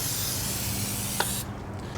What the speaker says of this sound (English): Chain and wire rope lubricant.